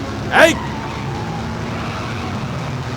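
A car speeding during a chase in a dubbed South Indian film, a continuous engine roar with a brief sharp whoosh or skid early on, a voice shouting over the driving noise.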